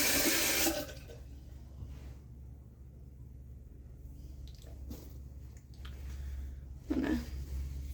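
Tap water running onto a large makeup sponge, a close splashing gush that starts loud then drops to a softer trickle with wet squishes and a brief splash near the end, no speech.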